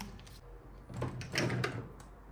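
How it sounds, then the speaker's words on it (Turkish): Items being set into a drawer in a home, followed by the drawer sliding shut, heard as soft rustles and light knocks with a muted closing thud, fairly quiet and without voices. "Şöyle şunları da çekmeceye koyalım."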